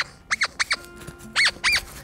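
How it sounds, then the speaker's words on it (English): A squeaky dog toy squeaks sharply in two quick pairs, loud and close, with quiet gaps between the squeezes. "some dogs are attracted by the squeakiness of a squeaky toy like this"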